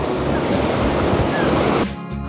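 Sea waves at Kuzhippilly beach in Ernakulam, rolling under a floating bridge. The surf sounds as a loud, steady wash with wind noise and then drops abruptly to a quieter rumble near the end.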